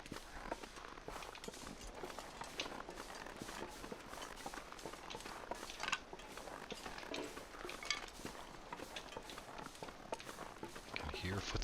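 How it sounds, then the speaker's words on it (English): Footsteps of a character in The Long Dark, a snowy survival video game: a steady stream of crunching steps that runs throughout under a dense, noisy game soundscape. "I can hear footsteps."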